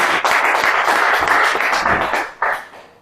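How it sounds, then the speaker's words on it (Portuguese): A church congregation claps together, a dense, sustained wash of applause for about two and a half seconds before briefly swelling again, close and full. "Dá salve de palmas"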